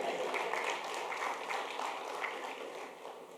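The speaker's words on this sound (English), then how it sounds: "Let's give AI a round of applause." Audience applause for a speaker at an economic growth and resilience dialogue, a steady wash of many hands clapping at moderate volume, fairly close and continuous, tapering slightly toward the end with no voices over it.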